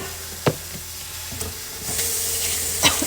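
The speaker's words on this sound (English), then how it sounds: "I'm going to put a little bit of water." Vegetables frying in a pan sizzle steadily as a little water is added, the hiss growing broader and brighter with a few sharp crackles and spatters, close and continuous.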